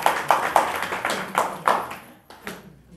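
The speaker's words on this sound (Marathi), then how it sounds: "सर्वांनी टाळ्या वाजवा" Hands clap in welcome at a Mahanubhav devotional gathering, a loose, rhythmic run of sharp claps from a small group nearby that thins out and fades over a few seconds.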